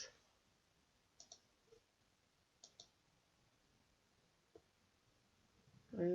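A computer mouse clicks the Next button during Google account setup, producing a few faint, sharp clicks in pairs spaced across a quiet room, ending in a louder bump.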